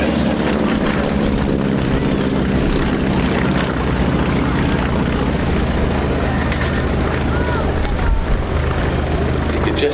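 Piston warbird engines at the Old Buckenham airshow, aircraft with three exhaust pipes per side, drone in a loud, steady rumble throughout, with a commentator's voice running over it.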